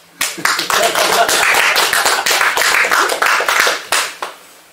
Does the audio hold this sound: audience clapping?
yes